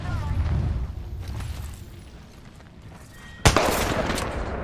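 Gunfire in the battle royale game Apex Legends: a sudden loud, sharp burst near the end follows a stretch of quieter, muffled in-game noise.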